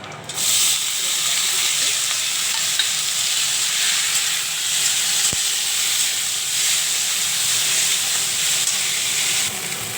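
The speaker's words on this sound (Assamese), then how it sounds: "সৰিয়হখিনি ফুটিবলৈ লওঁতেই মই ইয়াতে পিঁয়াজখিনি বিলাহীখিনি দি দিম" Onion and tomato with mustard seeds sizzle loudly in hot oil for a home-style breakfast dish, a dense continuous frying hiss broken by one sharp splutter.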